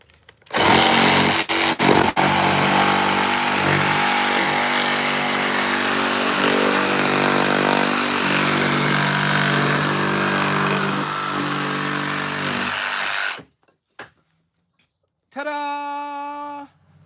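A power saw cuts curves in wood like a bandsaw, a loud continuous buzzing whine held steady for about thirteen seconds before cutting off, followed by a brief clack and a short tonal whir.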